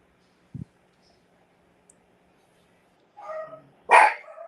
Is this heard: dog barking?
yes